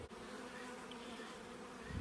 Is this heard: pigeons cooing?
no